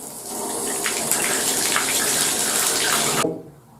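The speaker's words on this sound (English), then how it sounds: "I've got water coming out now." Water runs steadily from a single-handle faucet fitted with a new Price Pfister 974-042 pressure-balance cartridge, a close, even gushing rush that cuts off abruptly near the end.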